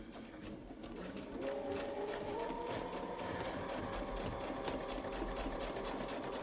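A sewing machine runs steadily, double-stitching a Westalee wreath design with an echo ruler, a close, continuous mechanical whir with a faint whine, starting softer and holding level without talk.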